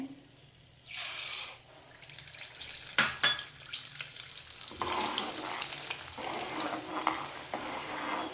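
Urad dal fries in hot oil for puliyogare gojju, a gentle sizzle that swells into a louder, crackling fry partway through, with a few clinks of stirring.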